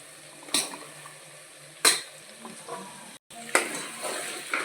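A spoon stirs potatoes, carrots and other vegetables in a cooker pot for vegetable biryani. Three distinct scraping strokes stand out over a faint sizzling background, up close and without speech.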